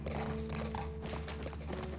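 Horse hooves clop steadily as a horse is ridden through nature in The Last of Us Part I, a soft, even rhythm sitting under a constant low ambient rumble and a faint tonal hum.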